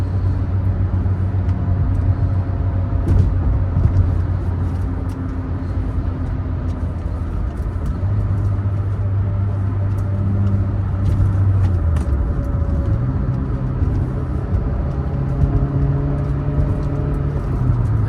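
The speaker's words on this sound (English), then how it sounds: "What a fun car to drive." Steady engine drone and road rumble from a 1986 Mercedes-Benz 190E 2.3-16 cruising at about 65 mph on a country road, continuous throughout with slight pitch shifts as the engine note changes.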